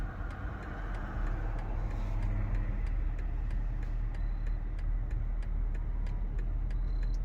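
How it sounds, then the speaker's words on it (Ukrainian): Steady low rumble of a BMW X5 G05 40i creeping along slowly as it parks itself, with a regular ticking sound repeating throughout and a faint beep near the end. "Все, машина їде сама і сама паркується."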